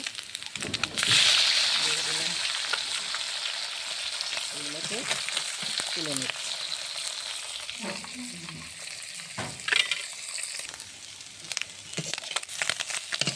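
Small puti fish fry crisply in hot oil, a steady close sizzle and crackle running throughout, with occasional scraping and lifting of the pieces and a voice speaking briefly over it.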